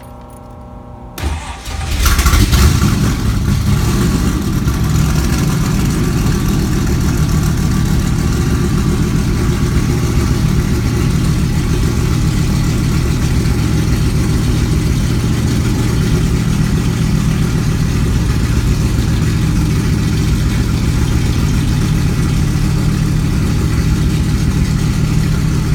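A Cobra sports car's engine settles into a steady, loud idle just after a cold start, with a brief burst of cranking at the beginning before the continuous low rumble holds unchanged to the end.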